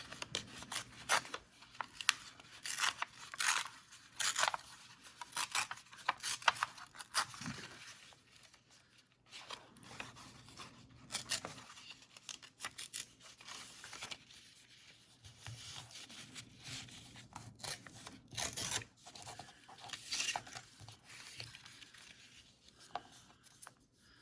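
Paper scraps being torn and rubbed for a craft project, a long stretch of close, irregular ripping and rustling with scraping handling noises and brief pauses, no talk.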